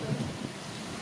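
Rain with a low rumble of thunder during a downpour in June, a broad steady wash of falling water under a deep rolling boom, no voices.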